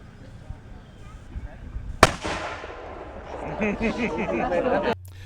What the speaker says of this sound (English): They're going to demonstrate the loading and firing of the swivel gun, and just be prepared for a loud noise.